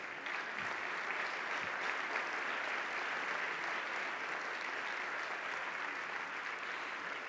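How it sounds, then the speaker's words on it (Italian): Audience at an economy awards ceremony applauding, a steady, even roar of clapping from a large crowd that holds without pause throughout. "Ecco l'applauso."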